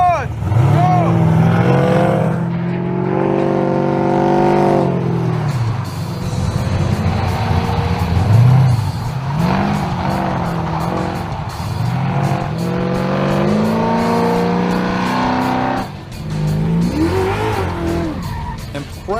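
A Crusher Camaro with worn snow tires runs hard on an autocross course, its loud engine rising and falling through repeated revving pulls, with tire squeal and skidding across the run.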